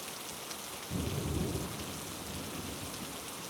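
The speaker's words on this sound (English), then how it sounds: "the rain is here" Steady rain falling on Paris cobblestones outside a midnight bakery, with a low rumble of thunder swelling about a second in and fading, the rain hiss continuing evenly afterward.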